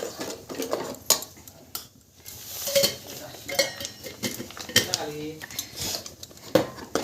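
Homemade red masala with coriander and garam masala being sautéed in a pan, heard as scraping, clinking utensil strokes against the metal with faint sizzle, in a home kitchen.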